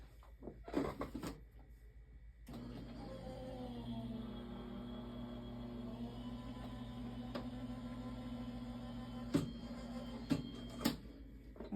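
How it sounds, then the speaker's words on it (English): A card with a metal shim feeds through an electric die-cutting machine, a quiet, steady motor hum lasting several seconds, framed by a few soft handling clicks and taps at either end. "I am going to put my metal shim just because I can. And let's run this through the machine"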